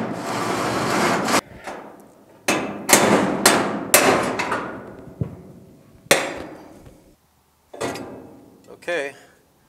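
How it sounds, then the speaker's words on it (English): A series of sharp metallic hammer blows punching out a rivet on a GM A-body car, irregularly spaced with decaying resonance, several in quick succession then a few more after pauses. "let's drill that out real quick and then punch that out"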